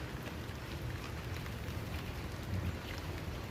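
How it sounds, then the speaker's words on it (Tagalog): Steady rain falls on a vegetable garden in Taiwan during the rainy season, a dense, even hiss of drops with a low rumble underneath, continuous and moderately close, with no voices. "Maulan-ulan na ngayon."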